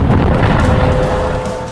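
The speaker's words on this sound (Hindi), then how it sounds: "पहले धमाका, फिर पोस्ट का बड़ा हिस्सा ढह जाता है और आग लग जाती है।" An anti-tank missile strikes an Israeli military post on the Lebanon border, a loud, deep rumbling blast that fills the moment and slowly fades as it trails off.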